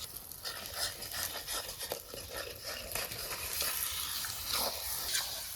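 Spice masala for a mutton curry being fried and stirred in a pan, with a soft steady sizzle broken by scraping stirring strokes, close and fairly quiet, no voices.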